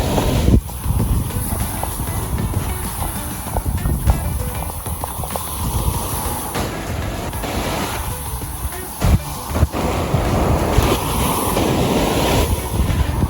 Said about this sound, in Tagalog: dahil malakas yung alon dito sa part na to